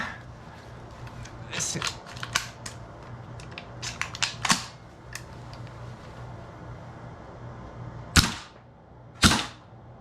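A VFC XM177E2 airsoft rifle fires a string of sharp, close mechanical clacks at an uneven rhythm, a few spaced shots with brief pauses between them and two louder reports near the end, over a low steady background hum.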